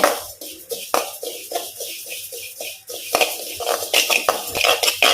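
Cumin seeds dry-roasting in a pan over a low flame and being stirred, giving a busy rattle of small seeds with scraping and clinking against the metal, steady and close with no talking.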